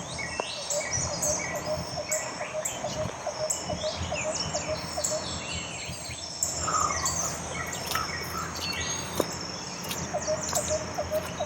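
A bird calls repeatedly outdoors in a rain-water garden setting, its chirps fairly clear above a steady bed of insect trilling and ambient noise.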